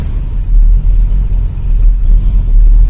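A restored 1966 Ford Mustang engine runs just after restarting, a loud, deep rumbling idle close up with slight fluctuations in a steady low throb.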